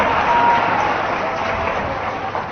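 An audience at a political speech applauds in a steady, dense wash of clapping that holds evenly before tapering slightly.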